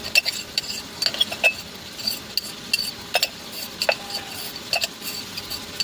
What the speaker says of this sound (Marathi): चटणी आणि लसणाची पेस्ट याला टाकू.